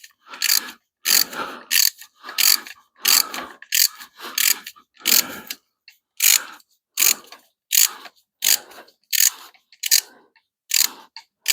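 A wrench ratchets a bolt tight during a 5.7 Hemi engine build, giving a long run of loud, close clicking bursts in steady back-and-forth strokes with short pauses between them.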